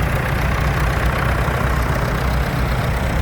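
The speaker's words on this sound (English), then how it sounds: "We've got a 6-cylinder engine in that Fordson Major." Six-cylinder engine of a Fordson Major tractor at a vintage steam fair rally, a steady low idling rumble heard close and alone throughout.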